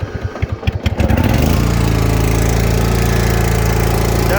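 A Troy-Bilt Mustang XP 50-inch zero-turn riding mower cranks in a few sputtering pulses, then catches after about a second and a half and settles into a loud, steady, close engine drone.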